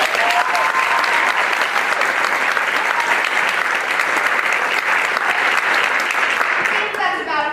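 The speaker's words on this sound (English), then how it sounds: "So I'd like to give one big round of applause to my advisor, Mrs. Geary." Theater audience applauding before a stage production of The Laramie Project, a loud, steady roar of many hands clapping that holds evenly throughout before tapering at the close, where a voice begins.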